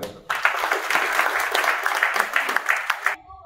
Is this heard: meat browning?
no